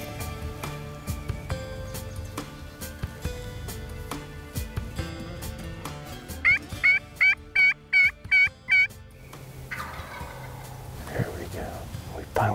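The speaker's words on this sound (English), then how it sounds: "Got this gobbler to sound off." A wild turkey gobbler sounds off from a distance of roughly 250 yards in a spring woodland, a run of about six distinct rattling gobbles in quick succession midway, with a hushed voice and outdoor noise around them.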